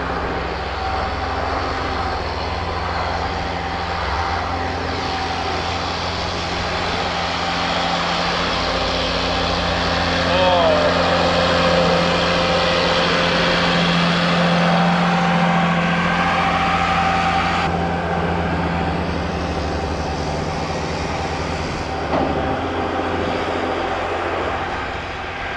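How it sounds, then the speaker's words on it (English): Two tractors packing a corn silage pile, a steady loud diesel engine drone with low rumbling and occasional rising revs, continuous throughout without talk. "packing this silage with two tractors."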